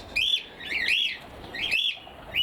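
Pet cockatiels kept outdoors give repeated shrill chirps and whistling calls in short bursts, loud and close, with no voices over them.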